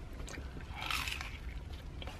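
A single close crunchy bite into a burnt, toasted chicken quesadilla, a brief crisp crackle at mid-clip over quiet room tone, with no talking.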